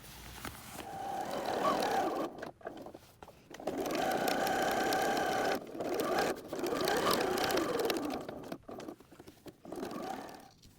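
Sewing machine running in long continuous bursts as it stitches a second line beside a first seam on a quilted fabric notebook cover, with short pauses between runs and a steady close-up motor whir.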